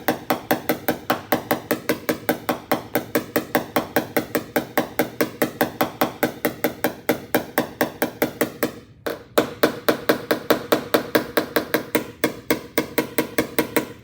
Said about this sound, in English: let the weight of the hammer do the work, and then you can get into that quicker rhythm where it's almost bouncing off the panel